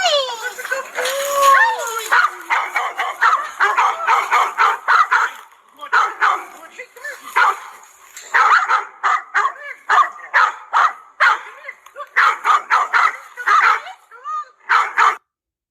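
Two big dogs bark in quick repeated bursts, fairly close, with short gaps between volleys and people talking in between.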